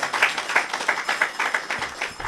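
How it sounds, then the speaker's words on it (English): An audience at a housing key presentation gives the government a round of applause, with clapping that comes in regular, fairly even pulses about three per second, moderately loud and without talk. "Give the government a round of applause"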